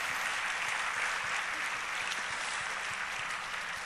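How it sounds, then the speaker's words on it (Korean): A church congregation applauds steadily, a dense, even patter of clapping lasting the whole time at moderate volume. "존경합니다. 박수하겠습니다."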